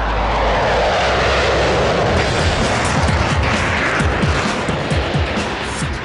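Lockheed Martin F-22 Raptor fighter jet flying at Edwards Air Force Base, a loud continuous roar of broadband engine noise with rumbling low-end crackle, steady throughout and heard alone.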